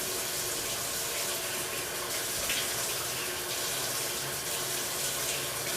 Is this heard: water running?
yes